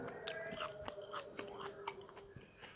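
Crunchy fresh dates are chewed close to the microphone, giving a quiet series of crisp bites and moist crunches spaced irregularly, with no talk.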